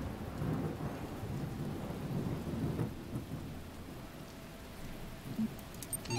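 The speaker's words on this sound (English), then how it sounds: "Can it stop raining, please, Elohim?" Rain and rolling thunder in the video game The Talos Principle, a continuous wash of steady rainfall with low thunder rumbling underneath, moderately loud and unbroken.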